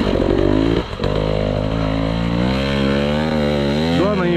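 A motorcycle engine revs hard and loud at an off-road race prologue, its whine climbing in pitch with a short dip, while a voice shouts over it.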